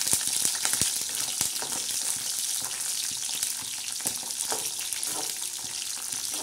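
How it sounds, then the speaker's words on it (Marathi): Bombil (Bombay duck) fish fry in a pan with a constant bright sizzle and scattered sharp pops and crackles, close and even throughout. "आता एकदम मस्तपैकी असे बोंबील हे बघा असे तळून घ्यायचे"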